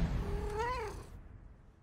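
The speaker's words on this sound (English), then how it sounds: "Now your cat's gonna meow." A cat gives a single drawn-out meow that rises and falls in pitch, clear and close over low background noise, then the sound cuts to near silence.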